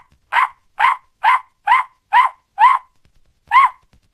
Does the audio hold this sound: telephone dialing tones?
no